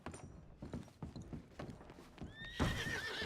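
A horse in Red Dead Redemption 2 clip-clops with a run of hoofbeats, then lets out a clear neigh near the end.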